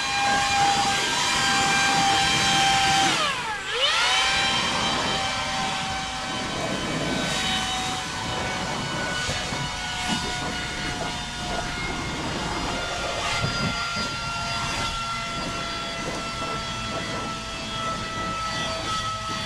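A Makita battery-powered blower clearing off a riding lawnmower, a loud steady whine and rushing air that dips sharply once then runs on continuously, close by without talk.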